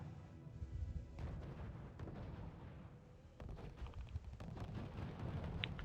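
Artillery and tank destroyer guns firing in the R.U.S.E. strategy game, a steady dense rumble of overlapping booms and bursts with sharper shots rising toward the end, no talk over it.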